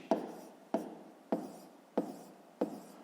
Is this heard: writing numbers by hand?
yes